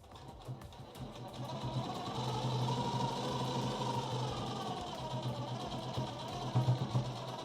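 A sewing machine runs steadily while stitching a boat-neck sequin blouse, a continuous fast mechanical whir at moderate level with slight speed changes and a few heavier clunks near the end.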